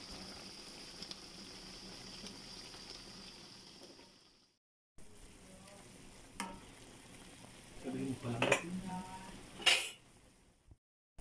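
Chicken curry with carrots and potatoes simmering in a pot, a steady bubbling sizzle broken by a brief pause, then louder scraping and clinking of stirring near the end.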